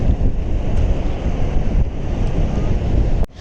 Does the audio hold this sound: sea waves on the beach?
yes